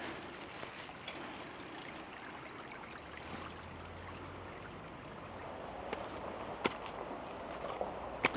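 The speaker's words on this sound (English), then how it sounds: "I can hear water trickling through there." A small forest stream trickles softly along a trail near a little bridge, a faint continuous watery murmur with a few light clicks and rustles.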